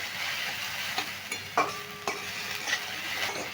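Potatoes being stir-fried in a wok over high flame: a steady loud sizzle with scraping stirring strokes and occasional clinks of the spatula against the pan, with no voices.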